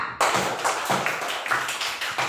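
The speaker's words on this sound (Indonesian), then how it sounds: "Tepuk tangan untuk Saudara Pipa." A classroom of students claps for a classmate, with steady, dense applause, loud and close, continuing throughout without speech.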